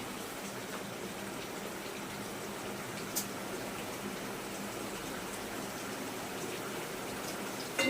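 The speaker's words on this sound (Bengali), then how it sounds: "বন্ধুরা দেখুন ফুটছে" Mourala fish in a tangy, spicy curry boils in a pot, giving a steady, close, continuous bubbling hiss with no one talking.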